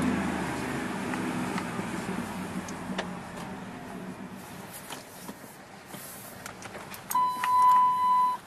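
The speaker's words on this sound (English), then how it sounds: "There's the annoying seatbelt dinger again." A car's seatbelt warning chime dings inside a truck cab during an engine oil change, a steady tone near the end over low cabin background noise.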